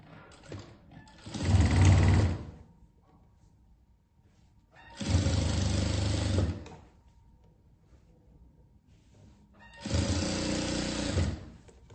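A sewing machine runs in three separate bursts of about a second and a half each while stitching blue fabric onto a quilt, with a steady close mechanical whir and quiet pauses between runs.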